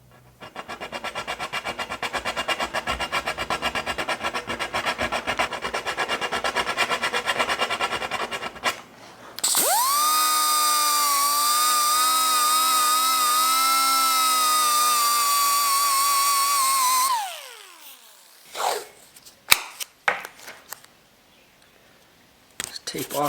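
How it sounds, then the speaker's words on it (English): A jeweler's file is worked into a hole to cut notches, giving a dense, gritty rasping of rapid back-and-forth strokes for several seconds, followed by a steady high-pitched mechanical whine and a few scattered clicks. "I'm going to hit the hole with this jeweler's file a few times, add some notches"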